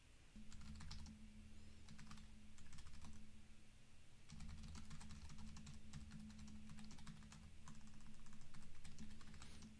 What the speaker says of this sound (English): I'm just typing stuff, hoping that it will work